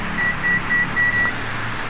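Multimeter continuity tester on a car ground check, sounding several short steady electronic beeps in a row over low engine-bay hum, fairly near and clear.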